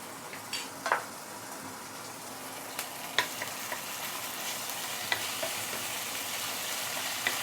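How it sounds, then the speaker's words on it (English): Spicy bean paste sautéing in hot oil with browning garlic and ginger for Chinese fried fish, a quiet, even sizzle punctuated by a few sharp spatula taps and clicks. "Always try to saute your bean paste with hot oil"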